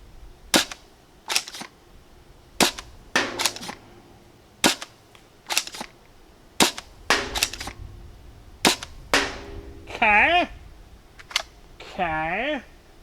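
A lower-powered foam dart blaster firing heavy darts, about a dozen sharp snapping shots spaced irregularly, close and loud, with a person talking briefly between the last shots.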